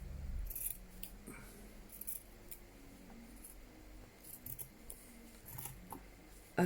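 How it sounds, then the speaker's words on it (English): Quiet, close snipping and sliding of scissors cutting along paper, a few light crisp cuts with small handling rustles in a hushed room. "I'm just going to run my scissors down here"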